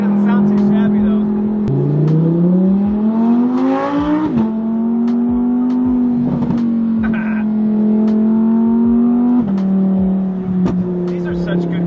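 An Audi RS3 sports car engine revs and pulls through gears, a loud, close, throaty drone rising in pitch, dropping at each shift, then holding steady, with intermittent clicks and some talking over it.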